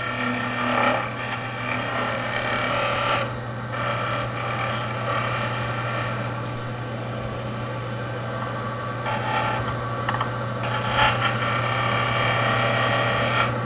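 Skew chisel's long point cutting a small bead groove at a joint on a threaded wooden lid spinning on a wood lathe: a steady hum runs throughout, with scraping cutting noise that comes and goes in several bursts.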